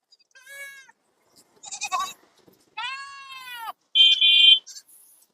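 Jamunapari goat kids bleat in short, high, wavering cries, several separate calls spaced by silence, close and fairly loud with no talking.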